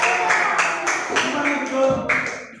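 Classroom applause from students, a run of scattered claps spread across a couple of seconds, mixed with background voices and chatter in a school lesson setting.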